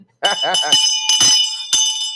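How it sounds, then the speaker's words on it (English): A bell rung during a live online show: several bright, sustained rings with short strikes in between, up close and loud, mixed in with indistinct speech-like sounds. "Well, I'm ringing the bell."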